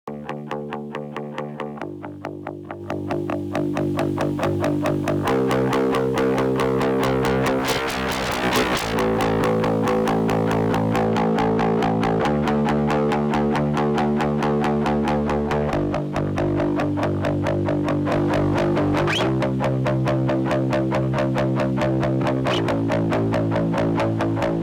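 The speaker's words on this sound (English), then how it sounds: "let's just use our built-in air distortion and apply it to the bass bus" A distorted, gritty synth bass with built-in distortion on the bass bus plays a steady repeating pattern of sustained notes, loud and continuous with no voices.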